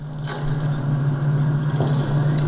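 Car engine idling in the racing video game Need for Speed Most Wanted, a steady loud low hum running throughout without revving.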